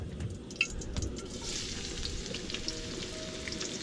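Onions sautéing in oil at the start of a pan-cooked milkfish paksiw, a soft steady sizzle with a few light clinks and stirring taps, fairly quiet and without speech.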